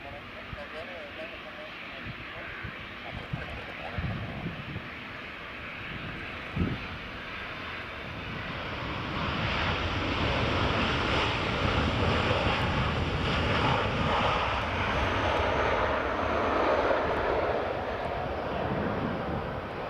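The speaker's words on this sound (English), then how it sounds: "we've got a Ryanair just about to land" A Ryanair airliner comes in to land at Edinburgh Airport, its engine roar swelling from a distant wind-blown hiss into a broad, steady rush that holds loud to the end.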